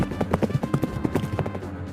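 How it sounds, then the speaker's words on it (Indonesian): Cavalry horse hooves clip-clop in a steady, fairly quick rhythm of many close, distinct strikes over a low rumble, with no talking. "Bukan hanya pasukan infanteri yang dipersiapkan, tetapi juga pasukan berkuda atau yang dikenal sebagai kavaleri"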